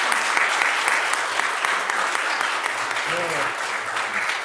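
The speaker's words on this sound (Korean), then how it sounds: "1년 동안 수고했는데 박수로 격려하겠습니다" A church congregation applauds steadily during a Sunday service, a dense, continuous round of clapping that fills the room, with a brief voice breaking in partway through.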